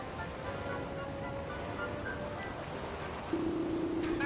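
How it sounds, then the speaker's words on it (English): A waterfall in the video game Dragon Quest Builders 2 pours over a cliff as a steady, even rush of flowing water, with a brighter layer joining toward the end. "The water's flowing right over the cliff all the way down to the bottom."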